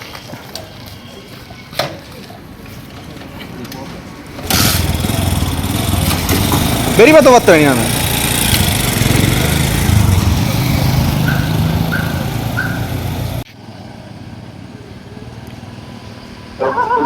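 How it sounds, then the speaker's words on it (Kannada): A motorcycle engine starts with a sudden loud burst and keeps running at a steady idle, with a short rev partway through, then cuts off abruptly. A voice speaks near the start, and a dog can be heard nearby. "ಬೈಕ್ ಸ್ಟಾರ್ಟ್ ಮಾಡ್ತೇವೆ ತೂಲೆ"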